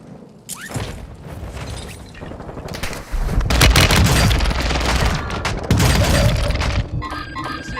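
Video game gunfire in a squad-based shooter rattles out in loud, close bursts and heavy booms, building into a dense, near-continuous barrage with brief gaps.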